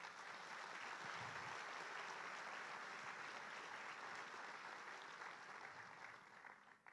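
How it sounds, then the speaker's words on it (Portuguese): A church congregation applauding during a sermon, a broad, sustained roar of clapping from a large crowd, steady and somewhat distant, easing off slightly at the end. "Pode aplaudir Jesus."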